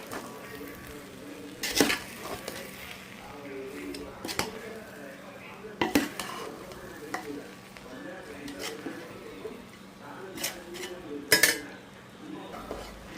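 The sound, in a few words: stirring mutton biryani from the bottom of the pot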